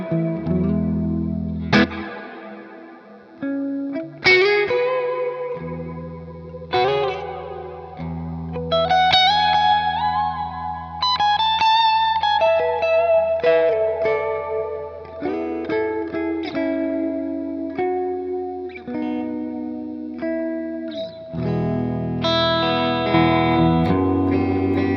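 An electric guitar with its pickup coil split plays chords and single-note lines through distortion and reverb, ringing out with sustained, echoing notes and no talking.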